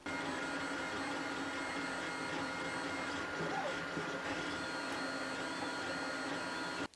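A servo drives the small gear of a four-axis robot arm turning on bearings, giving a steady, smooth mechanical whir that runs continuously at moderate level throughout.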